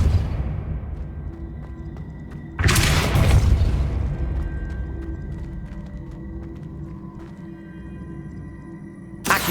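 A Depulso spell cast in the game Hogwarts Legacy produces a single loud whooshing blast, followed by a decaying rumble and scattered debris clatter, with a second burst beginning right at the end.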